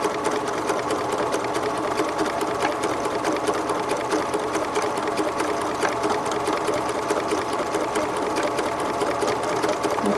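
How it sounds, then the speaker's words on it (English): A sewing machine runs continuously, sewing a stretch stitch on stretch fabric, a loud, close, rapid mechanical whirring and clatter with no pauses. "when I start to sew that the feed dogs are going to feed the fabric back and forth."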